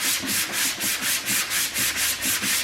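Hand sanding of a flocked car dashboard with 80 grit sandpaper, a close, loud rhythmic scratching of quick back-and-forth strokes, about four per second, alone without talk.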